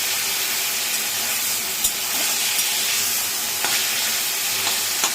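Chopped figs fry in a pan with a steady hissing sizzle, close and continuous, broken by a few light scraping stirs and clicks.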